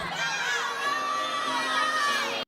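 Crowd in a gymnastics arena at a Kentucky at Florida meet cheering and shouting with high excited voices while awaiting a floor score, a loud sustained roar that holds steady then cuts off abruptly.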